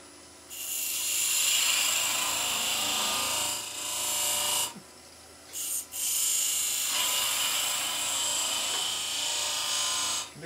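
A skew chisel cuts into a spinning wooden bowl on a wood lathe, giving a loud hissing, rasping shear in long passes broken by brief pauses between cuts.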